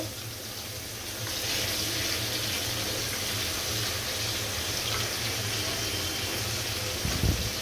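Ring-cut slices of bitter gourd dropped into hot oil in a pan, setting off a steady, loud hissing sizzle that swells after a second and holds, with a small clatter near the end.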